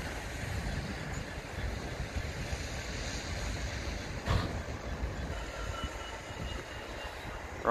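A GBRF Class 66 diesel locomotive on the Middleton Towers to Goole glass works run reverses up, giving a steady, fairly close low rumble with a wind-like hiss and one brief louder bump partway through.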